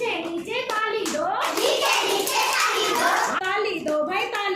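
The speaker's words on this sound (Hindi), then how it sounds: "नीचे नीचे ताली दो," Hands clapping in rhythm along with a children's clapping chant, claps mixed with sung and spoken voices throughout.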